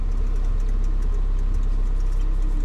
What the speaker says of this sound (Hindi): सो दोनों गाड़ियाँ कोल्ड स्टार्ट पे लगी हुई है, ऑलमोस्ट 10-15 मिनट हो चुका है।